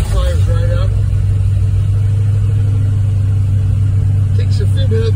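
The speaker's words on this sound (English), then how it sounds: "we're going to do a cold start on my Hillman Chevrolet" A 1953 Hillman fitted with a carbureted Chevrolet V8 idles after a cold start, a loud, steady low rumble close to the microphone, with a few faint higher sounds riding over it.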